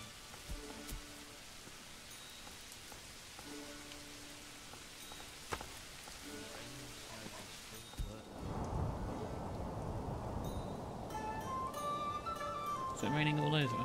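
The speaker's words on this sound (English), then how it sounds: "Is it raining all over?" Rain and rolling thunder in the medieval city-building game Manor Lords form a steady hiss of rainfall with a low rumble building partway through, joined near the end by brighter chiming game tones.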